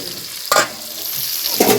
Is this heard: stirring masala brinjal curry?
yes